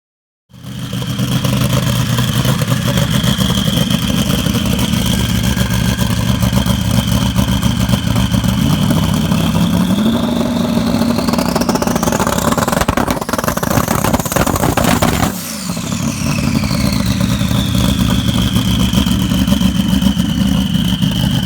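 Twin-turbo Nissan LMP3 race car engine at a hill-climb starting line during a launch control test, holding a loud steady rev, climbing in pitch, then briefly cutting out and dropping before settling back into a sustained high rev.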